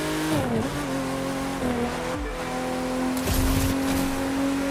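Porsche 911 GT (993) engine in the racing game The Crew 2, a loud steady engine drone with repeated drops and rises in pitch through gear changes, a brief tire screech and whoosh near the end.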